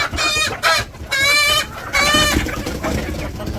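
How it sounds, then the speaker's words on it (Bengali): Chickens clucking and squawking loudly up close on a village farm, several drawn-out calls overlapping in a lively, continuous flock chatter. "মুরগি মাশাআল্লাহ দেখতে শুনতে খুব ভালোই লাগে"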